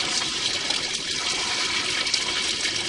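Water rushing down a vertical pipe column, a steady, loud, continuous gush with no pauses.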